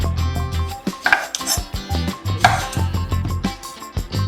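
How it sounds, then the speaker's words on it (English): Knife chopping apples on a cutting board in a home kitchen, a steady run of sharp knocks and thuds with scraping and clinking of utensils and dishes, close and moderately loud. "So let's chop these up."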